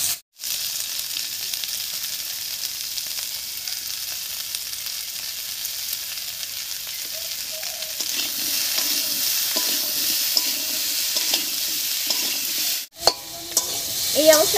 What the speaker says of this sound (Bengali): এই অবস্থায় আলুগুলোকে একটু ভাজা ভাজা করে নেব।